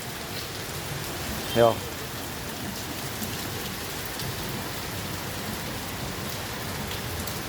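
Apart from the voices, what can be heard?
heavy rain falling in Jamnagar city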